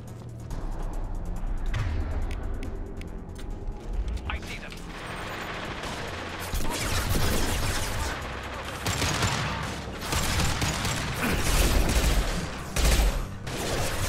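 SMG gunfire in Mass Effect 2, rapid bursts of game weapon fire with mechanical clatter and impacts, building louder toward the end, mixed with other combat noise.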